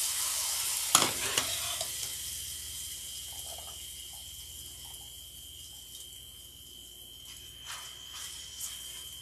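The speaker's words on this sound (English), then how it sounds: "put it straight into our pan, start cooking it with our pesto and our butter" Gluten-free pasta cooking in a sauté pan with pesto and butter, a soft continuous sizzle with a sharp clank of utensil or pan near the start and a few faint stirring knocks later.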